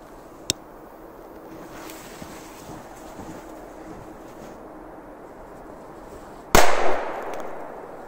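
A K-01-36 petard firecracker goes off outdoors in winter as one loud, sharp blast near the end with a brief echoing tail, preceded by a single faint click and quiet background.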